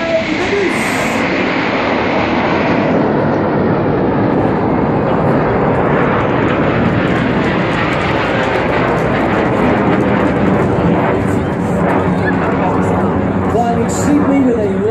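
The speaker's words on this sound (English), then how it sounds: "Now look to your right. There's a lone jet. His smoke comes on." A Red Arrows Hawk jet roars past at the 2014 Rhyl Air Show, a loud, steady rushing engine noise that fills the scene while an announcer talks over it.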